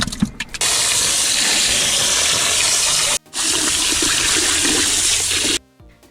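Water poured onto paper pulp in a tub, a loud continuous rushing gush close by, broken by one brief pause, then trailing off into gurgling.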